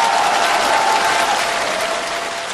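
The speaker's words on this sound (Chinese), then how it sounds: "掌声不够激烈啊！" A theatre audience at a comedy sketch show claps loudly and steadily for a few seconds, dense and sustained, fading slightly at the end.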